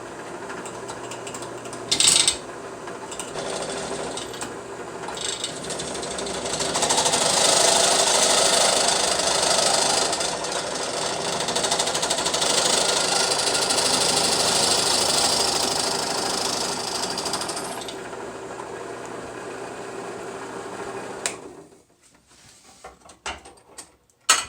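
A drill press motor whirs steadily while a bit drills a hole for about fifteen seconds, the pitch rising under load, then winds down to quiet clicks.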